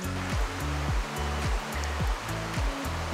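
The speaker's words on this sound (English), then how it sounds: "we'll literally be able to sleep with the sound of the little waterfall in the river" Steady rushing water from a small waterfall in a clear river, a continuous close splashing roar with no voices.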